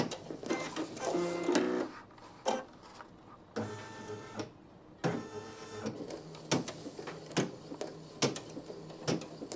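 A Brother PE900 embroidery machine stitching a design with John Deere lettering runs in mechanical bursts of whirring and clattering, broken by short pauses and thread-change stops, close and moderately loud.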